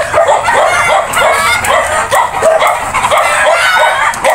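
Several dogs bark and yip repeatedly close by, overlapping in a busy, loud chorus with some whimpering mixed in.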